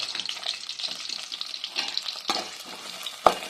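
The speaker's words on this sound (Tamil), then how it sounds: "இப்போ வடச்சட்டியில் வந்து எண்ணெய் காஞ்சிருச்சு வந்து நம்ம சின்ன வெங்காயம் போட்டுக்கலாம் கூடவே பச்சை மிளகா" Small onions and green chillies fry in hot oil in a kadai, giving a continuous, fairly close sizzle with soft stirring scrapes and one sharp metallic knock near the end; no speech.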